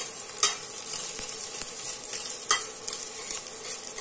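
Food being stirred in a cooking pan for a patola and sotanghon soup with sardines, sizzling steadily with scraping utensil strokes throughout, close and moderately loud with no talking.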